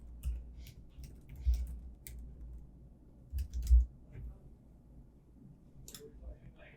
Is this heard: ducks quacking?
no